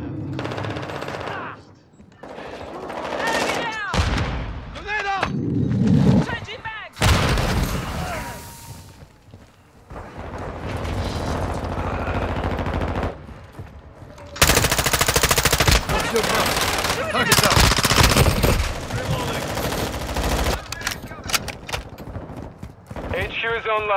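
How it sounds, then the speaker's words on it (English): Machine gun fire in the Modern Warfare 2 video game, heavy repeated bursts in a chaotic firefight with explosions, mixed with radio voices and speech, loud and near throughout. "Taking fire!"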